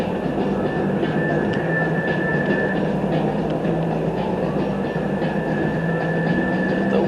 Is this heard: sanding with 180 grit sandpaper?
no